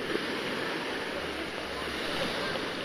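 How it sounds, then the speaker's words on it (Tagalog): Steady roar of rough ocean surf at Camiguin during the northeast monsoon, mixed with gusting wind buffeting the microphone, continuous and fairly loud throughout. "Mahangin today. Medyo maalon today dahil sa amihan nga."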